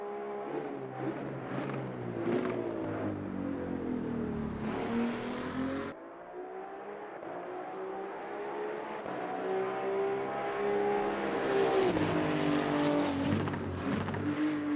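Engine of a GT2 race car in a racing video game, climbing through repeated gear shifts with brief cuts in between, droning steadily and loudly over about fifteen seconds.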